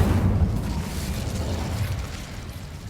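Incendio fire spell cast in Hogwarts Legacy, a loud, dense rumbling blast of flame that holds steady for about three seconds with no voices.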